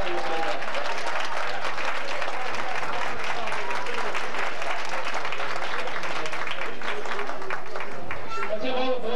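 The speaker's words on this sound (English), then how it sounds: "Let's give them a nice round of applause" Round of applause for Webelos Cub Scouts at a 1992 Blue and Gold awards ceremony, a sustained burst of many hands clapping in a room, fading near the end as a voice begins.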